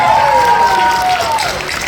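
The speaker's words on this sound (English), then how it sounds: "Everyone, give a big round of applause to Chris McGuire." An audience at an anime convention panel at Anime Fiesta 2023 applauds in a loud, continuous wash of clapping, with a brief descending whistle-like tone riding over it.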